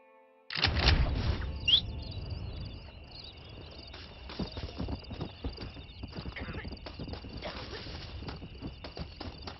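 Horse hooves clip-clop steadily in the Western video game Red Dead Redemption, a busy run of soft thuds going on for several seconds, with birds chirping over the top.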